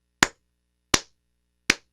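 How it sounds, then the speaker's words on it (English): Three single hand claps spaced evenly about three quarters of a second apart, sharp and close, forming a slow, deliberate mocking applause with silence between each clap. "This is a mocking applause."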